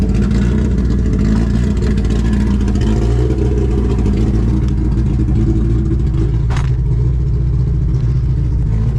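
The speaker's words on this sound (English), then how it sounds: "So I'm gonna have him drive around the block real quick just to kind of feel it out." A K24-powered Honda Civic wagon on MXR T7 coilovers, with a choppy idle, drives around the block, its engine droning steadily and loud from inside the car, with a brief rattle near the end.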